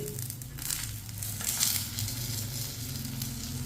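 A breakfast fries in a pan and is turned to cook both sides, with a close, steady sizzle and light crackling and stirring noises throughout.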